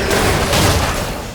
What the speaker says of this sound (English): Corpse Explosion does fire and physical damage.